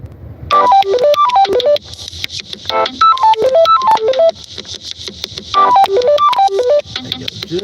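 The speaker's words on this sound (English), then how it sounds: "I'm gonna let the ringtone die out real quick." A loud phone ringtone plays close up as repeated bursts of descending electronic tone sequences, three rising-and-falling phrases separated by short gaps.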